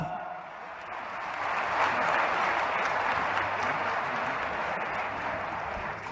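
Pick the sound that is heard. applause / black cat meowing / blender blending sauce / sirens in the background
applause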